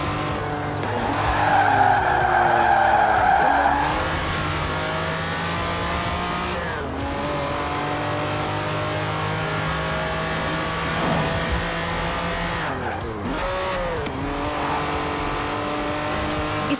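A Lamborghini Countach races in Forza Horizon 4, its engine revving and shifting loudly while tires squeal and skid through repeated slides, a continuous close, aggressive mix of motor roar and screeching rubber.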